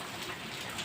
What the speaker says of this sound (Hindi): हमारे यहाँ पे बारिश तो हो रही है और साथ में ओले पड़ रहे हैं